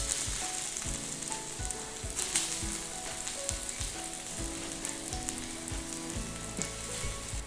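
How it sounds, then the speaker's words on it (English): Coated tofu cutlets for a vegetable katsu curry fry in a little oil in a pan, giving a steady, close sizzle with scattered crackles and soft clinks throughout. "Now I'm going to cook the tofu cutlets, and for that I'm going to add 2 teaspoons of oil to my pan."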